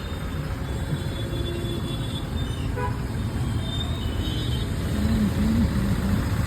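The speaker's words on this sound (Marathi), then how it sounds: "अजूनही ट्रॅफिक आहे ट्रॅफिक काय हालणार नाही एवढी ट्रॅफिक आहे आणि गावात पण फुल जाम आहे" Roadside traffic jam with a steady rumble of idling cars and buses, broken by a few short car horn toots in the middle and a longer honk near the end.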